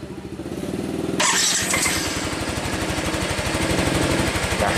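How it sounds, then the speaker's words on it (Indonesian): A fuel-injected Yamaha motorcycle engine cranks, catches with a burst, then settles into a steady rapid idle pulse, loud and close with no talk. "Selanjutnya kita nyalakan mesin."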